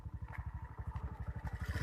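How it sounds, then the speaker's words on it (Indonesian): A motorcycle engine idles or putters close by at a rural corn field edge, a fast steady pulsing thrum with some clatter and no speech. "Bentar ya, aku mau naik motor."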